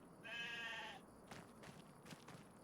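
A sheep in Farming Simulator 25 gives a single short, wavering bleat up close, followed by soft rustling and clattery game ambience.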